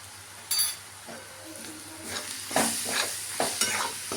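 Fried rice masala is stirred in a frying pan of hot oil: a soft, low sizzle runs underneath while a spatula scrapes and taps in irregular strokes, close and fairly quiet, with no talking.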